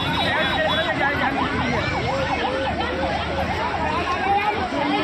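An ambulance siren wails, sweeping up and down repeatedly over loud traffic and crowd noise, sounding fairly close.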